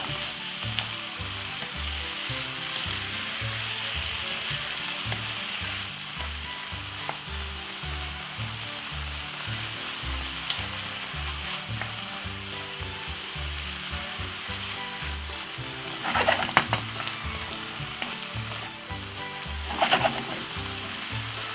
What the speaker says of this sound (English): keep stirring it for up to about 4 to 3 seconds until you get brown off that meat